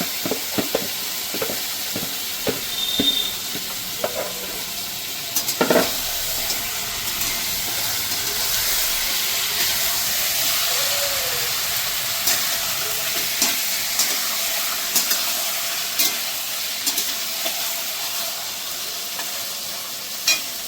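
Mutton going into lightly fried onion in a hot pan, a steady loud sizzle and hiss running throughout, broken by occasional clinks and stirring scrapes, no voices.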